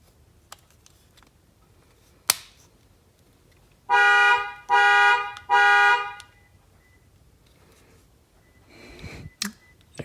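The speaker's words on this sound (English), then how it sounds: "it works because I just set off my panic alarm." The panic alarm of a 2017 Toyota Tacoma honks its horn three times in a row, loud and close, after a few scattered clicks from a key fob.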